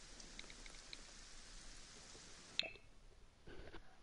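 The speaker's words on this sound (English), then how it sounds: "In the rain." Rain falls steadily in The Sims 4 as a soft, even hiss that cuts off abruptly partway through, followed by a sharp click and fainter ambience.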